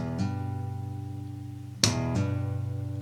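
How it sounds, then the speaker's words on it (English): Acoustic guitar played with a thumb-bounce slap: a sharp percussive slap strikes together with a sustained note, then a second slap follows with hammered-on notes ringing cleanly, close and fairly quiet, with no talking. "slap and note at the same time, and then start practicing doing some hammer-ons."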